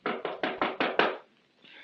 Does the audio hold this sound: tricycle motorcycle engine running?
no